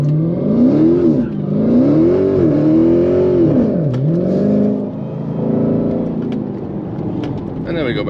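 A 6.2-liter Hellcat V8 revs hard and loud, its pitch sweeping up and down in repeated surges before settling into a sustained high drone.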